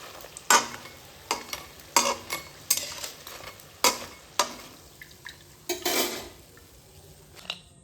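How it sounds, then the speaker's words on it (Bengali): Tomato chips being lifted out of hot frying oil, with a soft sizzle under a series of sharp clattering scrapes and taps of a utensil against the pan, close up and with no talk. "আওয়াজ শুনে বুঝতে পারছেন কত সুন্দরভাবে চিপসগুলো ভাজা হয়েছে।"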